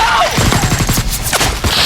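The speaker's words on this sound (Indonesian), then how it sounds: "Prajurit yang lainnya menembaki Nersila hingga membuat Artemis terjatuh" Soldiers in a film scene fire on monsters in a cave, and loud, rapid gunfire crackles in a dense fusillade of closely spaced shots.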